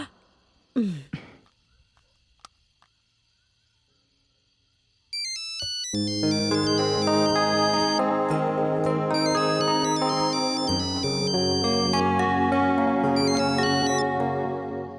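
A phone ringtone plays a bright repeating electronic melody for about ten seconds during an outgoing call in a Bhojpuri family film, loud and alone, after a sigh, a cough and a few faint clicks.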